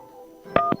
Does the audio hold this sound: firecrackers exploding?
no